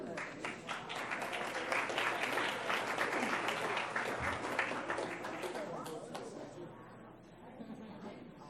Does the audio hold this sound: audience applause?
yes